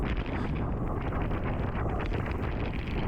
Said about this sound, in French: Regardez, vent de face, 40 km/h.